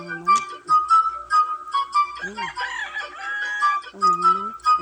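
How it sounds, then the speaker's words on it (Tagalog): Chickens cluck and a rooster crows nearby in a rural Philippine province, with several birds calling in overlapping bursts. "So, dami naman po dito mga manok."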